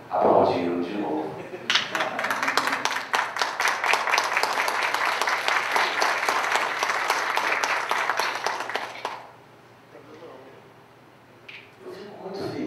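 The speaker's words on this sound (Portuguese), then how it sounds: "E, felizmente, aplaudiram de novo." An audience applauds loudly and steadily for about seven seconds of dense clapping, then the sound fades into a quieter room with a voice speaking.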